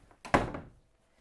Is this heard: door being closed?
yes